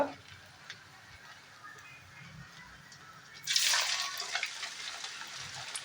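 A single test piece of potato French fry dropped into hot oil, bursting into a bright sizzle partway through and continuing to crackle steadily at close range after a quiet start.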